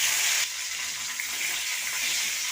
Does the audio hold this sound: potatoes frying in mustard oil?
yes